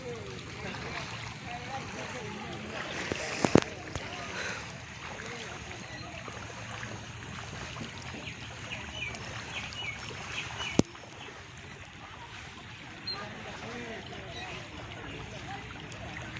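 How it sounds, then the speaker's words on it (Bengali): Knee-deep floodwater rushing fast over a submerged paved road, a steady broadband roar of flowing water with occasional sharp knocks and a voice talking over it. "পাকা রাস্তার উপরে আঁটু পানি পুরা বেগে আসতেছে দেখেন।"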